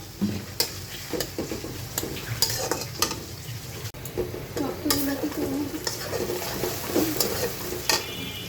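Oil sizzles and crackles in a pan over a steady frying hiss while a chicken curry is cooked in a village-style Bengali kitchen, with a spoon stirring and scraping against the pan at close range.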